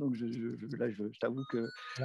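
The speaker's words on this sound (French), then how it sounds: "c'est le téléphone interne du Palais des Sports." The internal telephone of a sports hall rings with a thin electronic tone beneath continuous French conversation, someone talking over it throughout.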